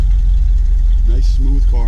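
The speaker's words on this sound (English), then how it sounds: "Hear this nice throaty exhaust too." A stock 1959 Ford Thunderbird idles with a deep, throaty exhaust rumble, loud and close, holding steady throughout while someone talks briefly over it.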